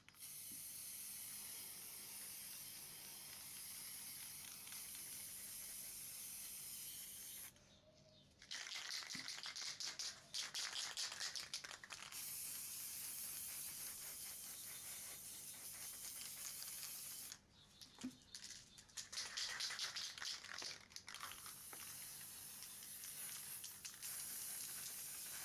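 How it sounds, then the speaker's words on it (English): A PS4 controller gets its first coat of yellow spray paint, the can hissing steadily in two long bursts with short pauses between them, loud and close. "now spray it with yellow, the first coat."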